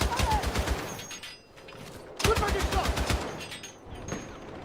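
.50 cal machine gun in Battlefield 6 hammering out rapid, evenly spaced heavy rounds in two long loud bursts with a brief pause and a shorter burst after, over game noise and a talking voice.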